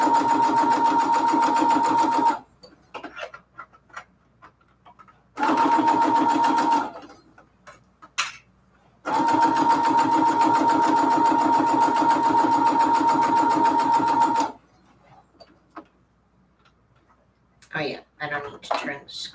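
A sewing machine stitches a quilted cathedral window pillow case in three bursts of steady mechanical whirring, the longest about five seconds, with quiet handling noises and brief talk in the pauses.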